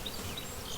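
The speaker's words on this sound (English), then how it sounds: "a lot of bees, if you look at my truck, they kind of escaped" A swarm of honeybees hums close by in a makeshift bee yard, a brief continuous buzzing drone with slight wavering pitches from individual bees.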